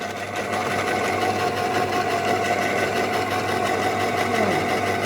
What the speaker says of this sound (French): avec mon appareil, mon ouvre-boîte électrique, ce que je peux faire, c'est ouvrir la boîte de tomates